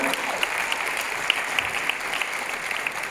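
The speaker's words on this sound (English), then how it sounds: "So a round of applause for them" Audience applause at an arts event thanking a Canadian media partner: steady dense clapping from a crowd with a few sharper claps standing out, continuous throughout.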